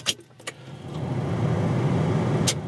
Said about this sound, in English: I start now the car.